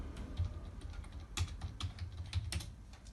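Computer keyboard keys pressed in a short run while entering a Ctrl+F9 shortcut during C programming, a handful of crisp clicks spread irregularly over about three seconds, close and fairly quiet with no talking.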